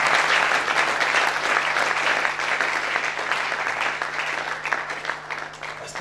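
A church congregation bursts into sustained applause and cheering for Jesus during a French-language sermon, a dense, steady wash of clapping that holds loud for several seconds before easing slightly.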